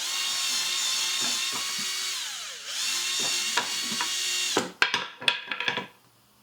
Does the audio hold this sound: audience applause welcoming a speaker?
no